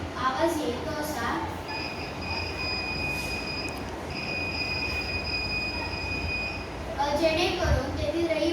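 A railway accident sensor alarm sounds as a sustained high electronic tone for about five seconds with one short break, over steady background noise.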